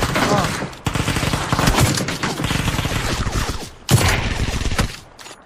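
Rapid automatic gunfire in a shooter video game, loud bursts of sustained rattling shots with a brief gap before more fire, ending in a quieter tail.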